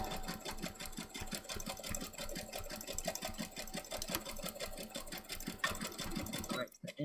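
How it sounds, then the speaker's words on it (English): Sewing machine stitching across a paper journal pocket, a fast steady mechanical chatter placed right beside the microphone, loud and continuous before stopping abruptly at the end. "I just realized I put the sewing machine right in front of the microphone"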